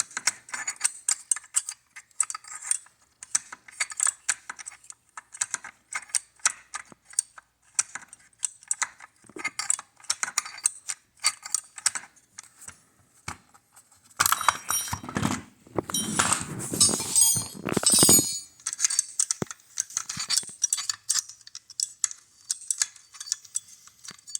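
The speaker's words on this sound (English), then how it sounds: "This is actually what's making contact with the barrel nut so you can hear it in the video." A handguard heat shield on a Colt 6940 rifle rattling against the barrel nut, heard as scattered close metallic clicks and ticks with a louder scraping, clattering burst midway.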